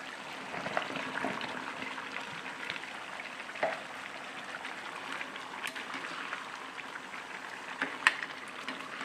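Beef with potatoes sizzles and crackles softly in a pan as pieces of pointed gourd are added, a steady quiet frying hiss with a few scattered clinks and taps.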